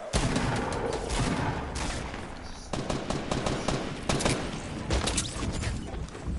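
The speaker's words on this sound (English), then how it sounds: "Oh, there's shooting going on here." Rapid gunfire from a PS4 video game, dense bursts of automatic shots and sharp cracks, loud and sustained with brief gaps, without talk over it.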